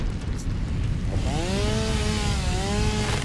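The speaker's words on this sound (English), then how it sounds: "Yes, it's a chainsaw." A chainsaw in Satisfactory cuts down a tree, a loud steady motor drone that rises in pitch as it bites into the wood.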